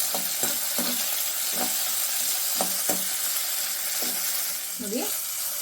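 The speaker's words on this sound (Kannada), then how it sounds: "ಮತ್ತು ಒಣಮೆಣಸಿನ್ಕಾಯಿ. ಎಲ್ಲ ಹಾಕೊಂಡು ಚೆನ್ನಾಗಿ ಹುರ್ಕೊಳ್ಳೋಣ." Dry red chillies, tomato and spices roast in a pan for obbattu saaru, a steady close sizzle broken by several sharp stirring scrapes and knocks of a utensil.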